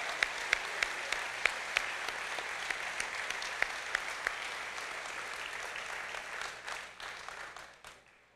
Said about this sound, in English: Let's give both of them men a big round of applause.